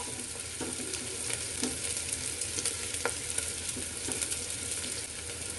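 Onions frying in a pressure cooker: a dense, steady sizzle with crackling spits and occasional light clinks of stirring, close and continuous with no voices.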